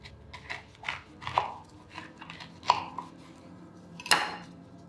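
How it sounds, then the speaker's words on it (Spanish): A knife cutting through a pomegranate on a board, with several separate crisp chopping knocks and small clicks spaced out over a few seconds, close and fairly quiet, no talking. "Entonces vamos a proceder a cortar nuestra granada."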